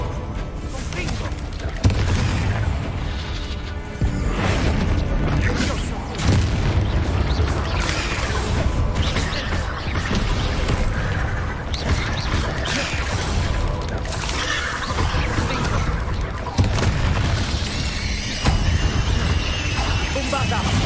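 Fiery Confringo spell blasts in the Hogwarts Legacy video game, a dense run of repeated booming explosions and crashes that keeps going for the whole stretch, loud and close over busy game noise.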